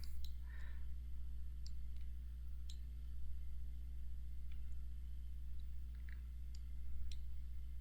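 Computer mouse clicking while running a Java application, a few faint, sharp clicks scattered over a steady low electrical hum, close and quiet with no talking.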